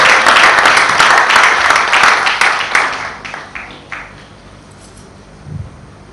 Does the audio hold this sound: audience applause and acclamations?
yes